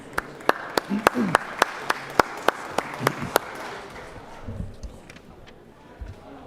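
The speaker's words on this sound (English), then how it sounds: "If I could get him a warm round of applause, please." Scattered claps ring out in a legislative chamber during a session, a dozen sharp, evenly spaced hand claps that then thin out and fade into low room murmur and faint voices.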